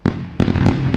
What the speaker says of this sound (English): I needed fireworks